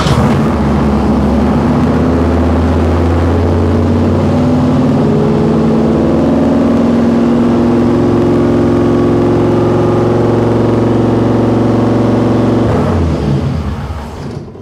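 The fuel-injected engine of a 1955 Chevy Nomad runs loud and steady at a high rev on its first start, holding a droning tone before easing off at the very end.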